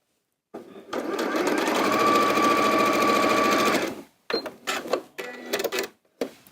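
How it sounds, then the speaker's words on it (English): A sewing machine stitches quilt pieces in one loud, steady, close run of about three seconds, then stops and gives several short bursts of stitching. "You're going to sew just onto one side to start with."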